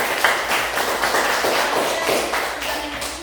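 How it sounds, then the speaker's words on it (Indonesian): Class applause in a school setting: a room of students clapping together, a dense run of hand claps with a few rhythmic swells, steady and fairly close for several seconds. "Tepuk tangan dulu"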